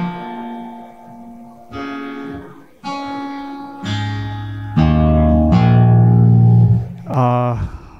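A baritone acoustic guitar in half Nashville tuning plays a series of bright strummed and picked chords. Each rings out before the next, and the playing builds to fuller, louder strums.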